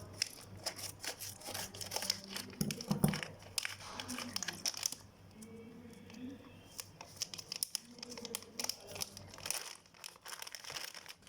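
Packaged Malaysian chocolate candy, almonds coated in chocolate, is unwrapped and torn open: steady close crinkling and crumpling of the wrapper, with a short quieter lull partway through.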